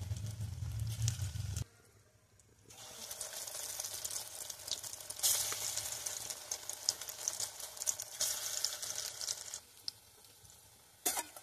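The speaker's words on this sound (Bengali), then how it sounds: "অল্প অল্প জাল দিয়ে বন্ধুরা করছি, নাহলে ভিতরে কাঁচা থাকবে" Cabbage pakoras fry in oil over a low flame, a soft uneven sizzle and crackle that drops out briefly and returns, with faint clinks of handling.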